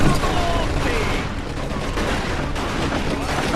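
Machine gun fire from the Mafia II video game, a dense, continuous rattle of automatic bursts mixed with other gunshots, loud and close throughout the short stretch.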